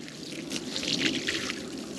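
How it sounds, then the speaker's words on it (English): Water pouring from a water truck pump on a hot day at a cattle farm, a soft steady splashing gush with brief louder surges, moderately near and faint, no talking. "Yeah, she's pumping lots of water today."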